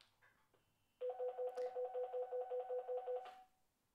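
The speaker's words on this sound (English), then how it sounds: "that's the other radio that is now starting to ring" A Binatone Terrain 750 walkie-talkie receiving a call rings with a loud, steady pulsing two-tone trill, about ten rapid beeps per second, lasting around two and a half seconds after a few faint handling clicks.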